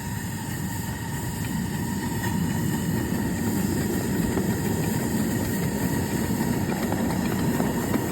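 A 1973 steam engine running steadily, a continuous low rumbling chug with hissing and faint whining tones, moderately close and unchanging.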